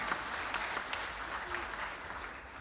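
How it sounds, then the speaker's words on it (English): A crowd of audience members at a women's celebration event applauds together, giving a short burst of dense, continuous clapping close by that stays even for a couple of seconds. "And you can clap for them one more time."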